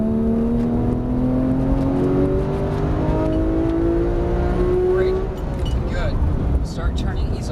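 A Porsche 991 GT3 accelerates hard on the Auto Club race track, its engine note climbing steadily in pitch and holding loud and close throughout, with a voice talking over it.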